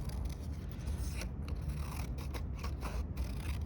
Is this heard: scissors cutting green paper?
yes